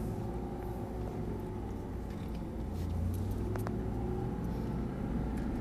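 An Audi R8 with 420 hp accelerates on the Fontenay-le-Comte race circuit, heard as a steady, moderately loud engine rumble from inside the car that swells slightly midway, with no talk.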